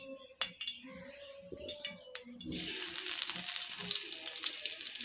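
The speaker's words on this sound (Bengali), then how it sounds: "এখন আমি এই আলুগুলো ভেজে নেব" Potatoes frying in hot oil in a pan: a few utensil clinks and clatters, then from about midway a loud, steady sizzle that carries on to the end, close and continuous, with no talk.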